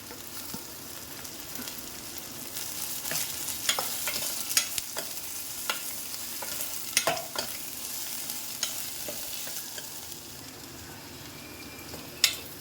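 Bitter gourd and onion sizzle in a pan, a steady close fry with repeated scraping stirs and clicks of a spoon against the pan, with no voices.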